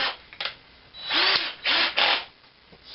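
A power drill fitted with a counterbore bit runs in a few bursts while repairing a Princeton 112 Plus amplifier, each burst a loud whirring grind with rising and falling motor pitch, separated by brief pauses and small knocks.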